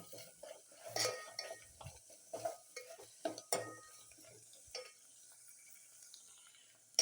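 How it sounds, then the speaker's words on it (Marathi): Coriander tossed into hot oil over spiced masala in a home kitchen, heard as close stirring scrapes and spoon clinks against the pan over a faint sizzle, the clatter fading toward the end. "आणि तेलातच थोडीशी कोथिंबीर टाकूया"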